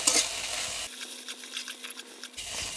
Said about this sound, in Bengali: এখন আবারও ভালো করে টমেটো সস এবং চিনির সাথে 1 মিনিট ধরে ভেজে নেব, মিশিয়ে নেব।